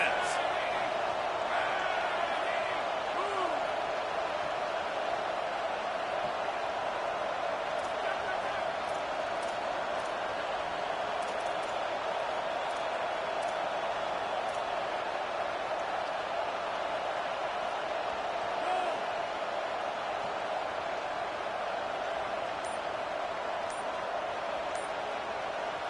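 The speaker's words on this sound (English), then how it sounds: "Big 3rd down as the crowd gets behind this defense." Stadium crowd noise from an NCAA football video game, Clemson versus LSU, swelling behind the defense on a big third down: a steady, loud roar of cheering that holds throughout, with faint clicks and thumps beneath.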